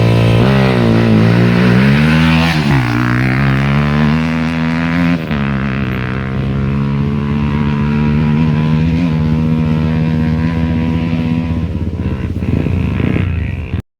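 A Yamaha R15 motorcycle engine revs hard and sustained for about twelve seconds at a roadside rally, loud and close, its pitch climbing and settling, then cutting off abruptly near the end.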